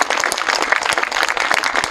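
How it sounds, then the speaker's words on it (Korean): An audience bursts into applause at the opening ceremony of a poet's literary museum in Geochang, a dense, steady clapping from a gathered crowd with no voices over it. "큰 박수 한번 부탁드리겠습니다."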